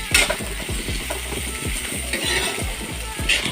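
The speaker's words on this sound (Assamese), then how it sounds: "এতিয়া বুটখিনি পিঁয়াজৰ সৈতে ভাজিব লাগিব" Chickpeas frying with onions in a pan, a steady close sizzle with repeated stirring scrapes in an even rhythm throughout.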